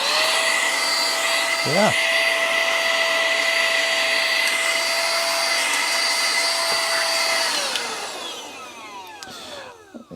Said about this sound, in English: on this side you can mount this tool, and then you have a blower. Actually blows.